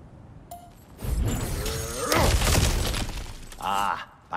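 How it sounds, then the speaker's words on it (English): Objects shatter and break in the video game God of War Ragnarök, a few crashing smashes mixed with voices speaking and game sound. "back to smashing through things for fun and profit"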